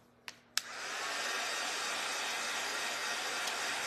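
A hair dryer clicks on after a couple of sharp knocks, then blows in a steady, close, loud whoosh while drying freshly painted craft pieces.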